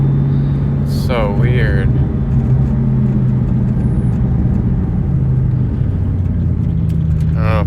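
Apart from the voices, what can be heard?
2003 SVT Cobra engine bucking while driving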